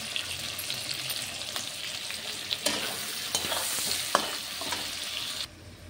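Potatoes, onion and bay leaf frying in hot oil, a steady close sizzle with stirring scrapes and a few sharper clatters, with no talking, before the sound drops away sharply near the end.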